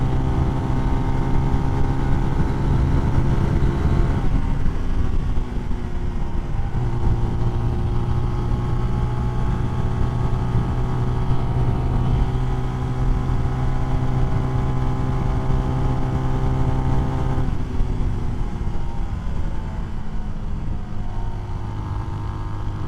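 CSC SG250 cafe racer motorcycle running at full throttle on a highway, a loud steady engine drone with pitch shifts at gear changes, heard close from the rider's position with wind noise and no talking.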